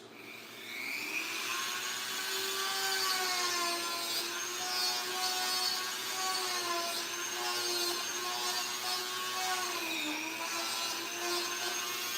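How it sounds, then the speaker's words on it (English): Power tool sanding during work on a BVM Super Bandit RC model, a steady whining motor hum with a strong tonal drone that holds for several seconds, wavering slightly in pitch, no talking over it. "Fire up the power tools."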